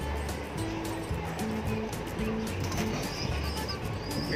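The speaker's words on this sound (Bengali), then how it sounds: "2012 সালের এই কবুতর, এখনো ডিম বাচ্চা করে।" Domestic pigeons in a home loft, an old breeding pair among them, coo softly and repeatedly in low rolling calls, with faint chirps and light rustling nearby.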